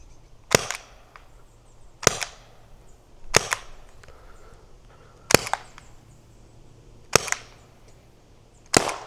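Six sharp, loud shots from an Umarex TR50 air revolver fitted with a 25J+ power kit, fired outdoors at an old pine tree, spaced about one to two seconds apart with no talking.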